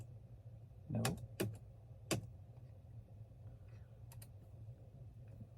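Typing on a dirty computer keyboard, a few sharp, close key clicks in short clusters over a quiet background hum, spaced with pauses between presses.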